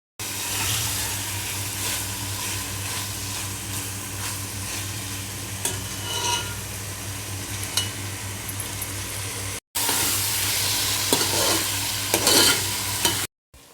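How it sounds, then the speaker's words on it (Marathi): Marinated chicken for a chicken dum biryani being roasted and stirred in a pot, with a steady close sizzle and repeated scraping stir strokes throughout and no talking. "आता हे मॅरिनेटेड चिकन आपण जरासे भाजून घेणार आहोत यामध्ये"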